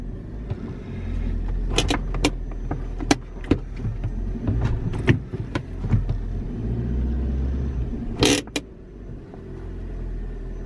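A Fiat Punto rolling to a halt under its handbrake during a brake test, heard as a steady low car rumble from inside with scattered clicks and knocks and a brief sharp rattle near the end.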